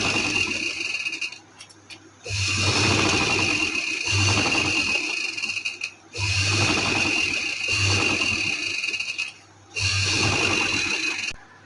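Sewing machine slowly stitching lawn or cotton trouser fabric, running close in several sustained bursts separated by brief pauses.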